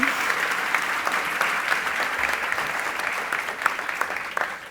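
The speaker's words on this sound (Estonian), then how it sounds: "Ärme ole nii kuivikud, plaksutame ka ikkagi." An audience claps steadily at a live real estate investment talk, a dense, continuous wash of applause that holds at an even level for several seconds with no voices over it.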